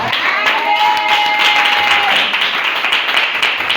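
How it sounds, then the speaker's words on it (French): A church congregation applauds during a sermon, with steady, loud clapping from a large crowd that carries on throughout, mixed with cheers and a raised voice. "Est-ce que tu peux acclamer Jésus pour ça?"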